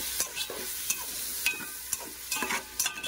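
Yogurt fries and is stirred in a pan for prawn biryani, giving a soft sizzle broken by repeated scraping strokes of a spoon at an irregular rhythm, close and fairly quiet, with no talk.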